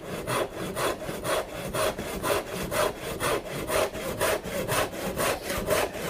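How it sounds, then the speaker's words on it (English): A tenon saw cuts through wood for a tenon joint, steady rhythmic rasping strokes back and forth at close range, about two strokes per second, loud and even with no talking. "So now it's got to be sawing to that line."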